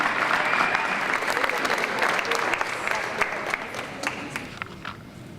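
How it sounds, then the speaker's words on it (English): Applause fills the room at a Kutztown University field hockey all-time team ceremony, with many hands clapping in a dense burst that thins and tapers into scattered claps toward the end. "Let's have a final round of applause for our all-time KU field hockey team."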